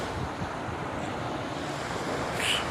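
Sea waves wash steadily onto the shore of Pasyagun beach under constant wind noise, a broad continuous rush with a slight swell near the end.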